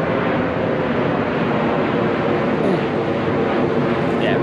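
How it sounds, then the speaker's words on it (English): A fixed-wing airplane passes over a beach in Tel Aviv at sunrise, its steady broadband engine roar loud and continuous throughout, blended with surf and outdoor ambience. "the airplane."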